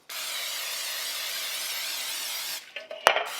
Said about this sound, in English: Now we're just going to spray our mini muffin pan really well because we do not want these to stick.